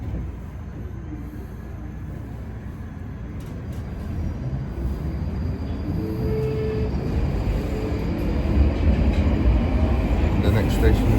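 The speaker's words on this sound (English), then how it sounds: "Okay folks, so we're on the train." A London Underground Northern Line train running toward High Barnet: a loud, continuous rumble of the carriage that swells gradually, with faint squeals and rattles of the wheels.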